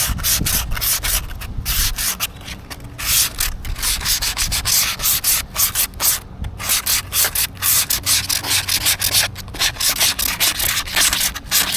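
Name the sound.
sanding plastic gold pan with sandpaper in circles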